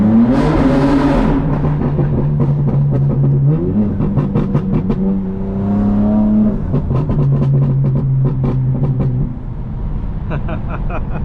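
An 800 hp BMW M4 Competition xDrive accelerates hard beneath a tunnel, its engine note climbing loud and close through several stepped gear pulls with echoing reverberation, with no talk over it.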